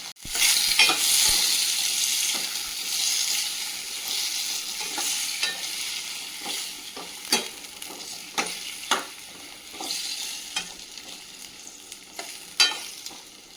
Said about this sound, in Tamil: தக்காளி நல்லா வதங்கி வரட்டும் சட்னிக்கு